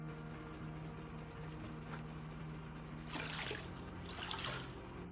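Water flowing in the Gold Rush video game: a soft continuous trickle and wash, swelling into louder splashing bursts near the end, over a low steady hum.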